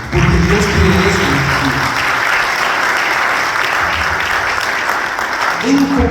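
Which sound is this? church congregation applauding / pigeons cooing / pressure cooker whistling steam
church congregation applauding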